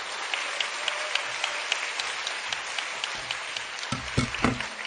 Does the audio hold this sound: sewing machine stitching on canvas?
no